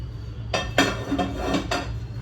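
Metal cookware clanks as a tawa griddle and pots are handled in a home kitchen while preparing malpua, four distinct knocks spread over a couple of seconds above a low steady hum.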